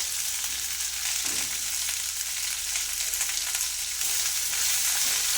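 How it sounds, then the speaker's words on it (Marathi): Okra frying in a pan over sautéed cumin, mustard seeds, garlic and chilli, a dense continuous sizzle heard up close with no voices, swelling slightly louder toward the end. "जिरं मोहरी लसूण मिरची छान परतल्यानंतर त्यामध्ये लगेच भेंडी टाकून दिली"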